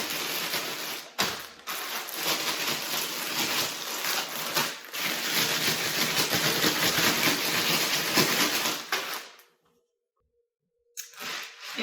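A zip-top bag of ice cream ingredients sealed inside a bag of ice and rock salt is shaken hard, giving a steady, dense rattling hiss for about nine seconds before it stops abruptly, with a short burst at the end.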